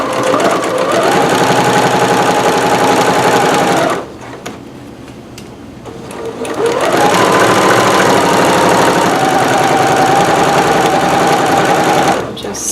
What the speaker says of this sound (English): Now I'm going to do my 5/8 stay stitch at the top.